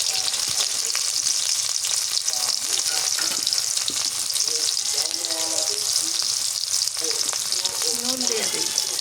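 Chopped onion and green chillies fry for a beef curry, a steady, loud sizzle filling the pan with occasional stirring scrapes throughout, no talking.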